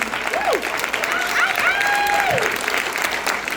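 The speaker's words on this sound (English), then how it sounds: "Another round of applause." An audience at an Atlanta film festival shorts-block Q&A applauds with sustained, dense clapping, and a voice speaks over it briefly.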